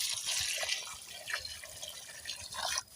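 Water poured into a cooking pot set over a firewood fire for a simple home-cooked meal, a steady splashing and trickling stream close by that runs the whole moment without talk.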